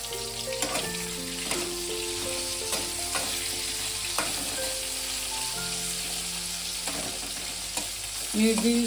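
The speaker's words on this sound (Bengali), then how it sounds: "মিনিট 2-3 আমি মাথাটা নেড়ে ভালো করে একটু ভেজে নেব।" A hilsa fish head fries in hot oil in a pan, giving a steady crackling sizzle. Spatula strokes scrape and clatter through the sizzle as it is stirred, with some tonal clinks near the end.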